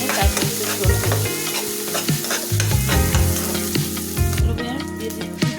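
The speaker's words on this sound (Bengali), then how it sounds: "আমি সুন্দর করে এটা ভেজে নিয়ে তারপরে একটু ঝোল দিচ্ছি।" Fish frying in a pan, a dense, steady sizzle and crackle running loud and close for the whole stretch, with no voices.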